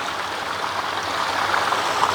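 Water flows steadily through a channel in Jaffna, making a continuous close rushing and trickling wash with no voices.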